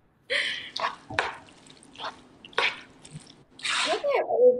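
Squishy carbonara pasta is stirred and mixed, making several short, wet, sticky squelches close by, with brief pauses between them.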